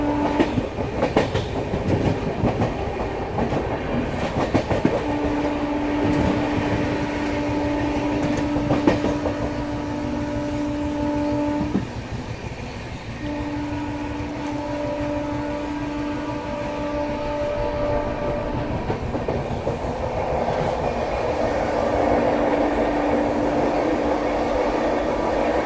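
The Swatantrata Senani Superfast express, train 12561, runs at high speed past Tundla Junction, heard from on board. Its rumble and clatter roll on steadily while a long, held horn sounds over and over.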